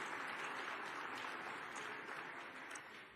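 A large audience applauds at a political speech, a steady, faint wash of clapping heard from a distance that slowly tapers off.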